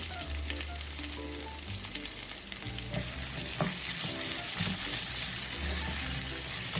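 Chopped onions sauté with whole cloves, cardamom and salt in a pan for a Kerala-style pork roast, giving a steady, close sizzle and crackle with light stirring scrapes throughout and no talk.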